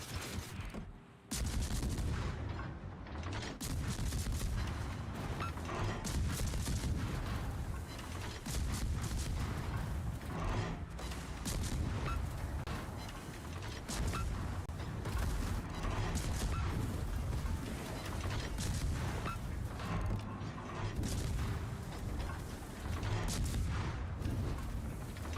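Ship guns fire during a World of Warships naval battle, dense repeated booming salvos and gunfire bursts that run continuously under a loud game soundtrack.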